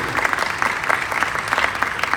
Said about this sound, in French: Merci à elles, on peut les applaudir.